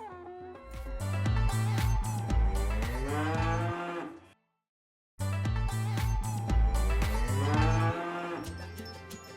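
Cattle moo loudly and close by during pregnancy testing of cows in Cambodia, with two long drawn-out calls separated by a brief silence.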